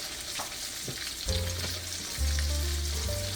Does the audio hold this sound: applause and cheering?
no